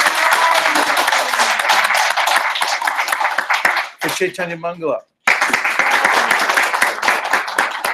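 Audience at a devotional lecture gathering clapping for a translator, steady dense applause that breaks briefly for a short spoken phrase, then resumes at full strength.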